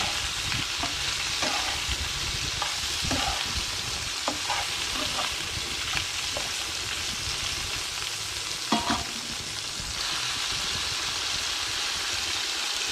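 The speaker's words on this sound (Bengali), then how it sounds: "তারপরে আমি ভেজে রাখা আলু পটলগুলো তেলে দিয়ে দেব, দিয়ে ভালো করে একটু কষিয়ে নেব।" Fried potato and pointed gourd pieces stir-fry in hot oil for a vegetarian curry, a dense continuous sizzle close up with occasional scraping and clinking spatula strokes throughout, no one speaking.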